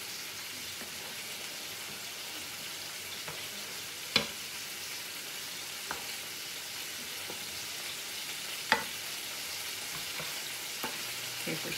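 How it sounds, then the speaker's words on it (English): Chicken broth is stirred into a sizzling pan, giving a quiet, steady frying hiss with a few sharp clicks of a utensil against the pan. "I'm going to stir that together, and then I'm going to start adding in my spices."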